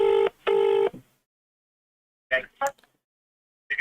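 Telephone ringback on an outgoing call: two long ring bursts close together, then quiet, followed by a voice answering briefly.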